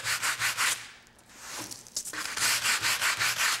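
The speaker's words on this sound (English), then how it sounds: "if you don't have a hand sander, you can do it with just a plain piece of sandpaper" Plain sandpaper rubbed by hand over a painted wooden table, a steady back-and-forth scratching in quick, even strokes, close and fairly loud, pausing briefly midway before resuming.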